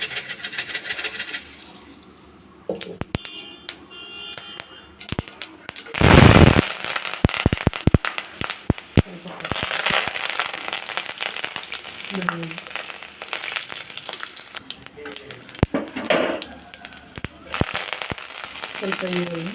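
Mustard and cumin seeds spluttering in hot oil in a pan, many sharp crackling pops over a steady sizzle, with a voice speaking briefly in between.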